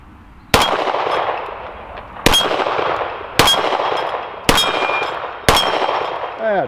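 A Taurus Model 85 .38 Special revolver fires five sharp, loud shots at irregular intervals, each followed by a ringing metallic clang of the bullet striking a steel plate.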